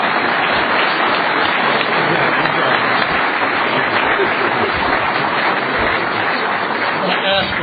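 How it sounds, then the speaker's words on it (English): Audience applause filling the room at the close of a panel discussion during a summer series event, a dense, steady wash of clapping that stays loud and unbroken throughout. "Let's give a round of applause."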